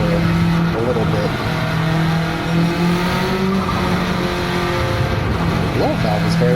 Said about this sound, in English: The blow valve is very like Fast and Furious 2JZ, like like almost like an HKS sequential blow valve there